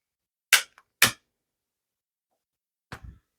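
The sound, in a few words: barbecue lighter being ignited to light tobacco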